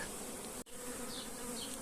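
A steady, dense buzz of many honeybees close by at a hive, continuous and even throughout with no voices.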